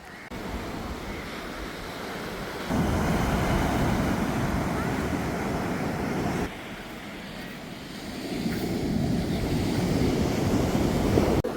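Sea waves breaking near the shore beside a seaside church, a steady loud roar of surf with wind buffeting the microphone, swelling in two long surges.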